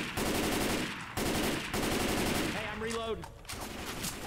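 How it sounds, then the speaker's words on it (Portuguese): Bursts of rapid automatic gunfire in Left 4 Dead 2, loud volleys broken by short gaps, followed by a brief wavering sound and quieter shots toward the end. "a gente vai torrar uma munição aqui"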